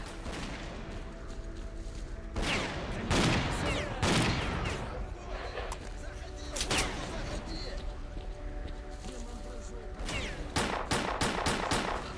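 Double-barrel shotgun blasts from the S.T.A.L.K.E.R. Clear Sky video game crack out loudly several times, mixed with other gunfire bursts and game ambience, while a player talks over the action.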